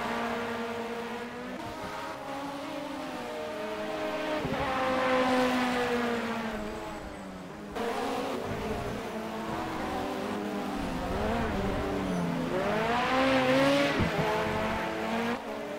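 A race car engine in the Project Cars video game, set in a DTM 2016 series race, revs and shifts in repeated rising whines. It sounds loud and continuous, with a brief dip near the middle, and nobody speaks.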